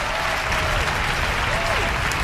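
A crowd bursts into loud, continuous applause after a daring reverse cannon stunt by a performer named Buzz Bumble, with dense clapping and faint cheering voices filling the whole moment.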